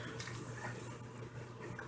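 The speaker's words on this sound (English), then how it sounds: "We're going to put hot water in" Hot water poured into jars loosely packed with frozen mixed vegetables for canning, a steady close splashing and trickling stream running without pause.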